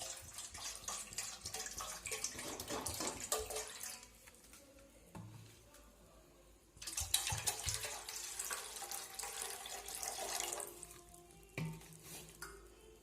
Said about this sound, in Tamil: இப்போ தண்ணி ஊற்றியாச்சு